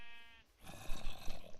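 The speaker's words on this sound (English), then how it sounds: "And this is a male sheep." Sheep bleating in TerraFirmaCraft, a short close bleat that breaks into a rough, wavering cry lasting about a second.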